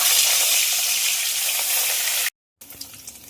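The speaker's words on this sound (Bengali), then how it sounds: "মাছ ভাজার জন্য তেল গরম হয়ে গেছে, মাছগুলো ছেড়ে দেবো।" Fish with turmeric and salt frying in hot oil, a loud steady sizzle that stops abruptly, then resumes more softly with small crackles.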